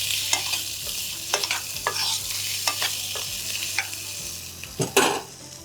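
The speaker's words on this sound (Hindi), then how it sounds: "तलो कुकिंग ऑयल में असां जेके पटाटा आहिनि इन्हनि खे फ्राई कयोसीं लूण ऐं" Potatoes frying in hot cooking oil with salt and chaat masala, a steady sizzle broken by repeated scraping stirs and a few louder clanks of the utensil against the pan, close and with no voices.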